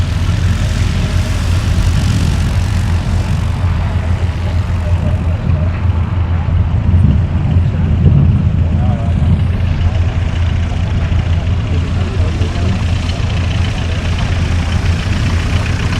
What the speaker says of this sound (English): And Lucy Newell has just landed in the Tiger Moth.